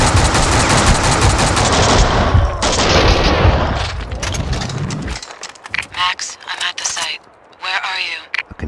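Rapid automatic gunfire and bursts from the video game Max Payne 2 fill the first five seconds loudly, then give way to scattered shots and sharp effects with voices talking in between.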